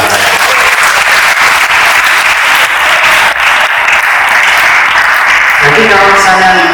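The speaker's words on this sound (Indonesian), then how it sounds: "Tepuk tangan ya." An audience at a school event applauds loudly and steadily. The clapping is dense and sustained throughout, with a voice briefly heard toward the end.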